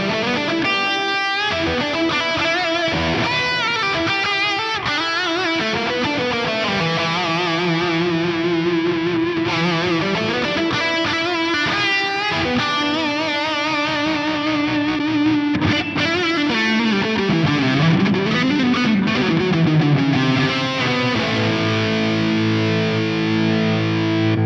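Electric guitar through a Boss SY-1000 and an Axe FX with delay and input boost, loud and distorted. Strummed chords and lead lines with bends ring out over echoing repeats, and no one speaks.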